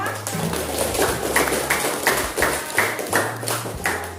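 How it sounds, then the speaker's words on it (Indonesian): A group in a classroom learning session claps hands together in a quick, regular rhythmic pattern of sharp repeated claps, fairly close and distinct. "untuk itu kita beri tepuk tangan kita semua"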